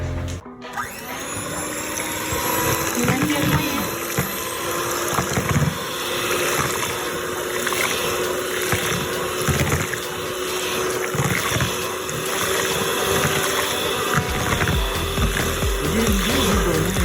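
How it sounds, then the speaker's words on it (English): A blender whirring through a matcha ice cream mixture, running loud and steady for many seconds after a brief start-up, with a constant motor drone and churning liquid and no voices. "let's blend it up."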